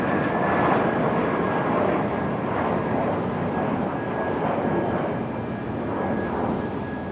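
An Airbus A220 airliner departs Raleigh-Durham International, its broad, steady engine roar filling the air, loud and sustained throughout with a faint tonal whine riding on top.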